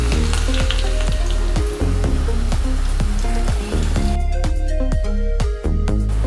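Shallots and curry leaves fry in hot oil over popping mustard seeds for a sardine curry tempering, a steady close sizzle with sharp pops and recurring soft stirring scrapes throughout, no talk.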